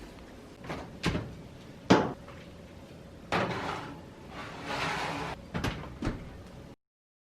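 An oven door thuds and slides shut as a tray of turkey bones for bone broth goes in, with several close knocks, a scraping rumble and a final clunk in a kitchen, and no voices.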